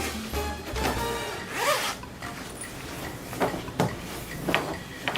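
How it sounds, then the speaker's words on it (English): A zipper on a protective sleeve over a water-cooled TIG torch hose is pulled closed in several rasping strokes, close and fairly loud, with short pauses between pulls. "Zip it up."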